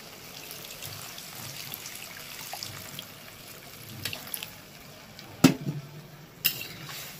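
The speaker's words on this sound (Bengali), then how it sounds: "এবার দিয়ে দেবো জল" Water pours into a pot of morola fish and taro stolon curry in a home kitchen, a steady soft splashing hiss with a couple of sharp knocks near the end, no voices.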